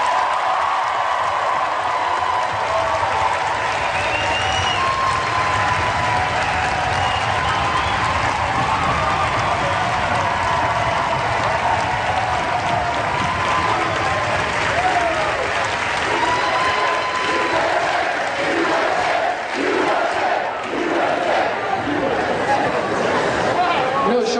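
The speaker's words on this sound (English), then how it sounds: "Would you join me in giving them a round of applause, please?" Sustained audience applause fills a town hall rally for Bernie Sanders held in Gettysburg, loud and steady clapping with some cheering and crowd chatter mixed in throughout.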